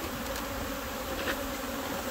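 Honey bees swarm around an open hive while packages of bees are made up, producing a dense, steady droning buzz close by that continues without a break and without talking.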